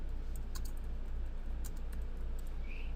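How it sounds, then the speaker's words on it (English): Fingers type on a computer keyboard, a quiet run of soft irregular key clicks over a low background hum, with no voice. "type in a name for your file"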